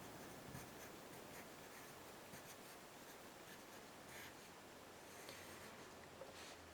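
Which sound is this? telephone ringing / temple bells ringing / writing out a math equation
writing out a math equation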